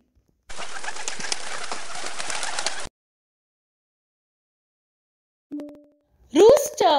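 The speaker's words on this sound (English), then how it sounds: "Pigeon." A pigeon calls in one steady, close burst of about two seconds, then silence, a short spoken word, and the start of another bird call.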